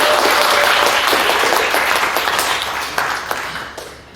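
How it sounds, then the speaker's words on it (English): An audience at a Juneteenth celebration in Rocky Hill bursts into loud, dense applause from many hands, holding steady before gradually thinning out toward the end. "please give yourselves a round of applause."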